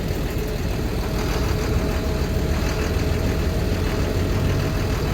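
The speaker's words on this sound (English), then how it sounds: "Field line blower." A field line blower runs steadily while filling a smallish silo about 45 to 50 feet tall, giving a loud, continuous engine-driven roar with a heavy low rumble and no breaks.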